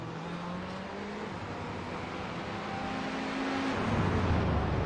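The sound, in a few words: cars racing downhill at Laguna Seca, racing video game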